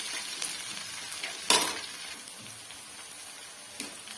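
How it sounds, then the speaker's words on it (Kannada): Chopped onion with ginger-garlic paste sizzling in a pan, a soft continuous frying hiss with a sharp spatter burst early on and a few small pops, quiet and close with no voices. "ಈರುಳ್ಳಿ ಫ್ರೈ ಆಗ್ತಿದೆ."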